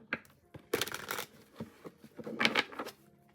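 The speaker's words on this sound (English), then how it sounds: "One more shuffle." A deck of tarot cards is shuffled by hand in a few quick riffling bursts with small taps and pauses between them, close and crisp, with faint murmuring in the background.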